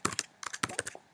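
Fingers typing on a computer keyboard, a quick, close burst of crisp key clicks in short irregular clusters with brief pauses between them.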